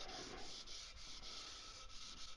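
An old aluminum Thrush side pipe is rubbed and polished by hand with a wood block, a faint, steady, close scrubbing with a rhythmic back-and-forth swish and no voices.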